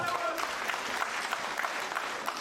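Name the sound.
crowd applauding at a snooker match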